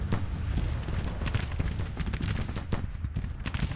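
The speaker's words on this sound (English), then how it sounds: "Captain B opening up with the 12-pounders" 12-pounder cannons in a Civil War battle in Grand Tactician keep up a rolling barrage, dense overlapping booms and cracks at a steady roar with no clear pauses.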